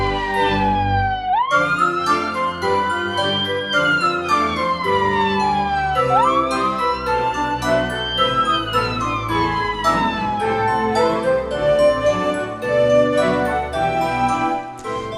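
A toy ambulance siren wails continuously, its pitch sweeping repeatedly up and down, loud and close and mixed with a tinkling electronic tune throughout.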